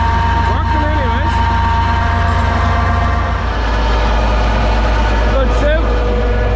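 A tractor runs hard while driving a slurry agitator on a farm, a loud, steady low diesel drone with a deep rumble that shifts pitch midway, while a voice talks briefly over it.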